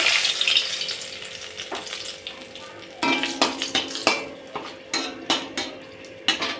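A bay leaf and dried chillies go into hot oil in a wok, giving a hiss of frying followed by a run of sharp metallic clinks and scrapes from a stirring utensil, close and loud, with no talk.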